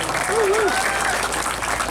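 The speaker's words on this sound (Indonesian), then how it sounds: "Tepuk tangan untuk Uniba Madura." An audience at a university event gives steady, dense applause from a crowd, heard together with a voice talking through it.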